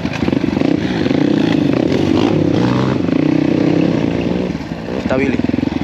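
A trail motorcycle rides off-road, its engine droning and revving steadily up close, with a brief dip in throttle near the end while someone talks over it.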